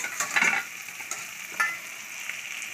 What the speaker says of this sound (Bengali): আর এই যে চিংড়ি মাছের ঝাল তৈরি করছে